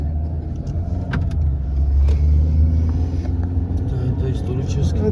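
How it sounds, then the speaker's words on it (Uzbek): Cars driving across a city square in Tbilisi, a steady low engine rumble from nearby traffic, with people talking over it. "Maydonda bemalol mashinalar yuraverar ekan."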